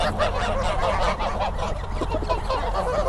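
Geese honking loudly and continuously at close range while eating new feed of oilseed meal on a farm, a dense overlapping chorus of calls with no talking.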